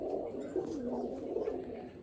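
Pigeons coo in soft, continuous, overlapping low murmurs inside a loft, moderately close and fairly quiet, with no talking.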